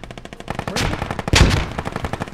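Gunfire in the video game Squad, with rapid sustained automatic bursts and louder heavy shots, dense and close, filling the whole clip without speech.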